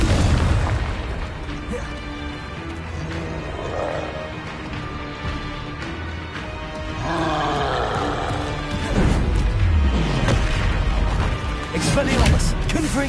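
Loud crashing blasts from Confringo fire spells go off repeatedly in Hogwarts Legacy, mixed with other spell effects and combat noise, while a voice talks over the action.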